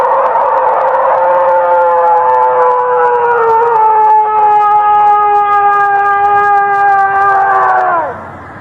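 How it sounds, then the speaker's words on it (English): A long, loud wavering howl attributed to a bobcat or mountain lion, rising and holding with strong harmonics for about eight seconds before breaking off abruptly. "I want to say that was a bobcat or a mountain lion because that's what it sounds like"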